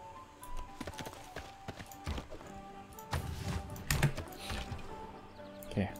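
A cavalry unit moving in Civilization VI sets off soft, rhythmic hoofbeat clip-clops, faint and close, with a few brief interface clicks and a little talk.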